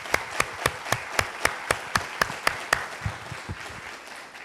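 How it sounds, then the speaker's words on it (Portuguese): A church congregation claps together in a steady, evenly spaced rhythm of sharp beats that loosens and fades toward the end, with no one talking over it. "Vamos aplaudir o Senhor"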